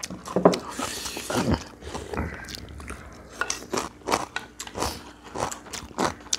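Someone eats young radish kimchi barley bibimbap with cabbage kimchi, making close, irregular chewing and crunching bites, with brief Korean speech between mouthfuls.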